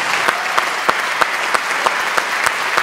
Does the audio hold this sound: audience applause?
yes